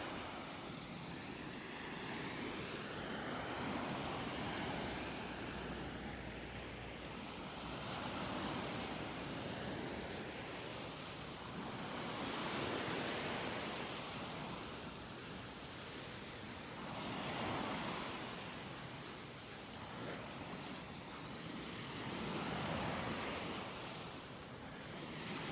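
Surf washes onto a beach in North Naples, Florida, in a steady roar, with slow swells of breaking waves rising and falling every few seconds under a constant wind rush.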